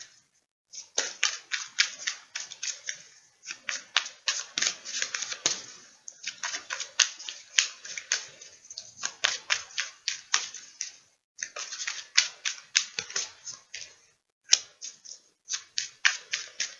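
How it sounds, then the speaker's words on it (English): Tarot cards being shuffled and drawn for a reading, a close, dense run of quick crisp riffling flicks in bursts with short pauses, alone without talk. "I'm going to pull 3 cards just so I can see what it might mean for you"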